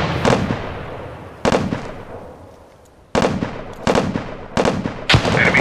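Frag grenade blasts in the America's Army Proving Grounds shooter, a series of sharp loud bangs spaced about a second or more apart, each with a short decaying tail, standing alone without talk.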